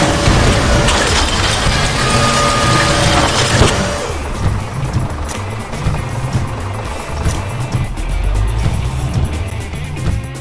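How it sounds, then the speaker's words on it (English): A concrete mixer truck with a revolving drum, as a sound effect in a children's vehicle app, gives a loud, continuous mechanical rumble and churning that eases slightly partway through. No voices are heard. "It is a concrete mixer truck."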